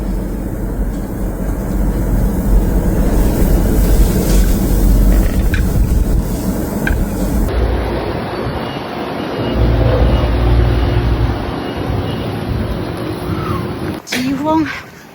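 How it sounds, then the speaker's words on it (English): Strong blizzard wind blowing snow across a highway near Calgary, a loud steady roaring rush with broadband gusting noise and low rumble throughout, continuing unbroken. "哇，这个风。"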